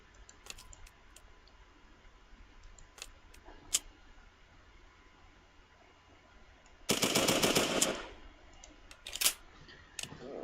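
A Schmeiser submachine gun fires in a video game, first as scattered clicks and mechanical handling sounds, then a dense automatic burst of about a second, followed by a few more sharp mechanical clacks.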